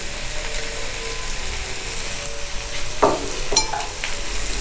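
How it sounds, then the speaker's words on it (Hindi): Boiled eggs tumble into a pan of shahi chanay and get stirred, a steady sizzle running throughout with two sharper scraping clatters of the spoon near the end. "अब हम इसमें हमारे बॉयल किए हुए एग डालेंगे।"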